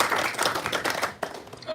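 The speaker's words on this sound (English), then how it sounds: "Big round of applause for Mr." Audience clapping for Mr. Kaziwe after his talk at an innovation consortium event, a brief burst of hand claps that dips partway through and then resumes.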